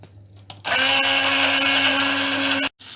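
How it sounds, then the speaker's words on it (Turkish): A blender purees lentil soup, whirring loudly and steadily for about two seconds, starting abruptly and cutting off near the end, with a sustained motor hum. "Blender'dan geçirelim. Güzelce pürüzsüz bir hale getirelim."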